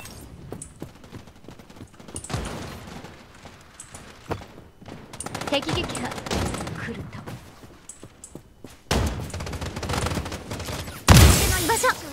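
Gunfire in the shooter game Strinova, a few sharp shots scattered among game effects with a loud burst near the end; a voice talks at times in the background.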